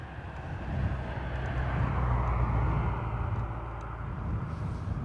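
A jet roars as it takes off from runway 28 right at Dublin Airport, a heavy, steady rumble heard from a distance that swells and then holds.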